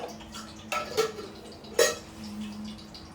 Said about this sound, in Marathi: आणि आता आपण हे झाकण लावूया.